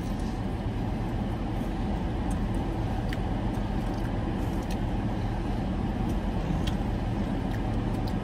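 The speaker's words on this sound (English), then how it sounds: "A lot of cars driving around." Cars roll past in Las Vegas traffic, a continuous steady road rumble with a broad wash of tire and engine noise, heard from inside a vehicle.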